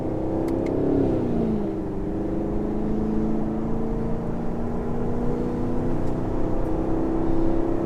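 A 2019 Chevrolet Camaro SS V8 on its factory exhaust revs loudly and steadily on a wet stretch of US Highway 129, with the engine note dipping and then climbing again as it pulls.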